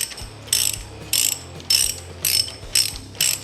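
A ratchet wrench installs new spark plugs in a Ford 351M engine, giving six evenly spaced bursts of sharp, close clicking.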